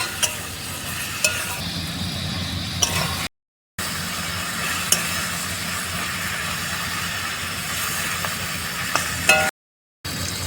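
Tomato frying in a pan with softened onion for a fish curry at an outdoor camp, a steady close sizzle with occasional stirring scrapes and two brief dropouts, no talking.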